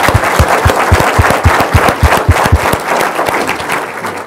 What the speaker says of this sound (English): So let's have a round of applause for our alumni.